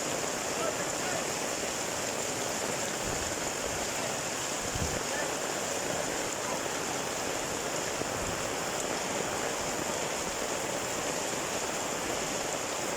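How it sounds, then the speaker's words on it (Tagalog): A swollen river rushes near the sea in rainy weather, a steady broadband roar of fast water filling the whole stretch with a few low thumps and no clear speech. "Ayan, grabe na yung tubig dito sa kabilang ilog guys."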